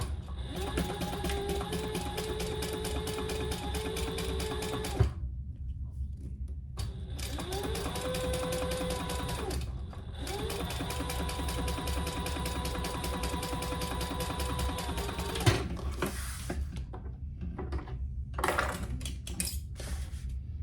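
Electric sewing machine top-stitching a white vinyl leathercraft pouch, running in steady long bursts with a constant whirring hum, pausing briefly between seams; near and loud, with no talking.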